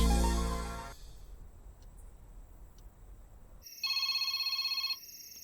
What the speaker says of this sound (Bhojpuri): फोन तोरे बाप के फोन है, उठाई ना